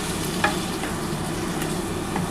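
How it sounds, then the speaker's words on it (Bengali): Masala paste sizzles hard in a pan after water is added, a dense continuous hiss with faint scraping stirs over it, close and steady with no talking. "এবার মশলার যে জলটা আছে সেই জলটা দিয়ে দিলাম। এবার খুব ভালো করে মশলাটা কষাতে হবে।"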